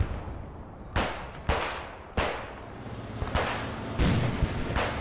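Distant shell fire from a vehicle in the game Post Scriptum: five sharp booming reports at irregular intervals, each trailing off in a long rumbling echo, with no voices.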